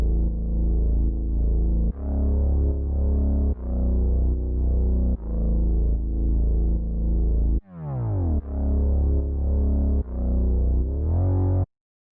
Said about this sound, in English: which is actually this analog bass from my drum kit.